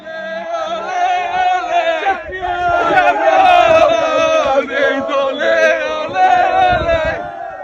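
A dense crowd of football fans outside Emirates Stadium roars and chants in rising, sustained waves of massed voices, loud and close.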